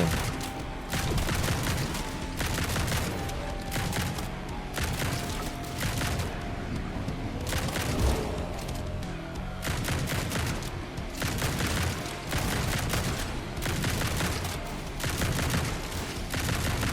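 Rapid gunfire from a big gun in the video game Grind Survivors keeps up a dense, relentless stream of shots with heavy impacts, firing faster and almost without pause throughout.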